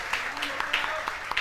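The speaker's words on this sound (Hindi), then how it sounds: "अब ये तीनों चारों बच्चों ने जिन्होंने गाना गाया, इनके लिए अलग से तालियां बजाओ कि इन्होंने हिम्मत की" Scattered, light clapping from a classroom of students applauding classmates who sang, sparse and uneven at moderate distance, with a voice speaking over it.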